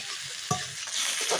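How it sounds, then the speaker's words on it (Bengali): Spices for a beef tripe curry stir-fried in a pan, a steady bright sizzle with a few sharp scrapes of a spoon stirring through it, close and continuous over a short stretch. "এটা সুন্দর করে পানি ছাড়া একটু নাড়াচাড়া করে ভাজা করা হবে"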